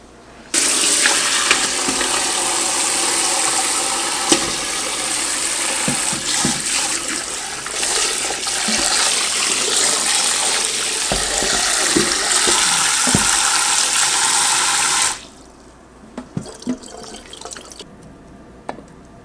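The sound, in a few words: rinsing jackfruit under running tap water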